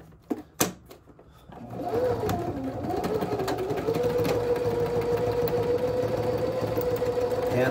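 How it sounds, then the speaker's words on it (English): A medium to lightweight sewing machine stitching the edges of a leather purse or bag: a few clicks, then a steady, close, continuous mechanical whir that holds a constant pitch until the end. "So now what we're going to do is we are just going to sew just the edges."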